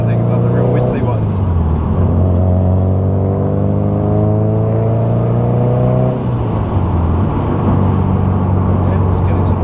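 A turbocharged car accelerates under boost with a steady, loud engine drone and a rising whistle-like whine from the compressor, then a shift around the middle as the pitch drops and climbs again, heard from inside the car.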